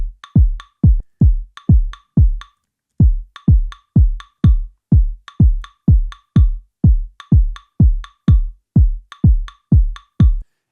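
Latin tech house top loop of punchy percussion hits in a steady, bouncy repeating pattern, each hit sharp with a short decay, loud and alone with a brief gap before the loop restarts.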